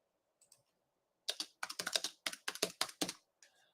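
Rapid keystrokes clatter on a computer keyboard, first a couple of isolated taps, then a quick burst of clicks in uneven rhythm, close and fairly quiet, ending with a few faint final taps.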